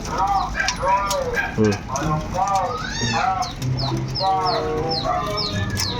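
Several hens clucking and cackling close by in irregular bursts, with occasional louder calls, and someone talking over them.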